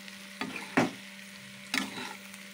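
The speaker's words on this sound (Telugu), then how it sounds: "కారం వేసేసుకున్నాను కదా, మొత్తం అంతా కలిపేసుకోవాలి" Chili powder is stirred into raw plantain curry frying in a pan, a quiet sizzle punctuated by a few soft scraping strokes of the spoon, with a steady low hum in the background.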